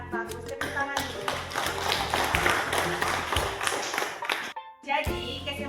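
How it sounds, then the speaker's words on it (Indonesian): Schoolchildren in a classroom break into a burst of brisk hand clapping lasting a few seconds, framed by a voice speaking before and after. "Tepuk tangan dulu."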